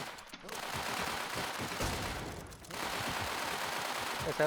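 Dense, continuous video game gunfire from a Mosin rifle battle fills the clip, a loud steady clatter of shots with a short dip midway and faint voices underneath.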